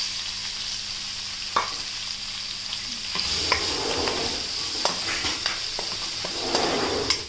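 Onions and curry leaves frying in a pan, a steady close sizzle that grows louder partway through, with scattered stirring clicks and scrapes of a utensil against the pan.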